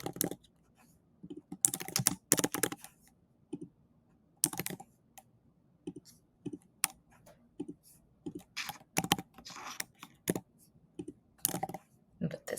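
Bursts of fast clicking keystrokes on a computer keyboard while an online form is filled in, with short pauses between groups of key presses; the typing is close and fairly quiet.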